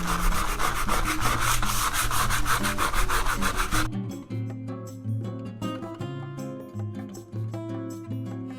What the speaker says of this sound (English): you gotta kind of come in and sand those out with like your fingertips.